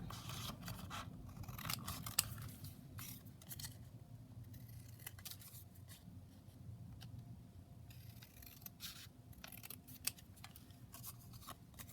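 Scissors snipping the corners off a handmade paper tag at a craft table, a string of close, quiet cutting and scraping sounds with two sharp clicks, no talking.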